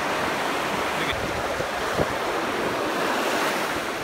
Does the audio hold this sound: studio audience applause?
no